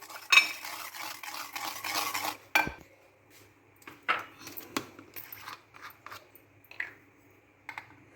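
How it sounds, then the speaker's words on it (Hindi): Wet stirring and scraping of a spoon against a bowl as garlic-ginger paste is mixed into raw chicken, irregular soft clicks and smears, fairly quiet with no talking. "इसमें लहसुन अदरक का पेस्ट वो डाल के मिक्स करने लगी हूँ।"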